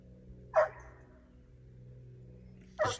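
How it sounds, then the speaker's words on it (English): A dog barks twice, separated by about two seconds, each bark a single sharp call at moderate distance over a low steady background hum. "This dog just keeps barking."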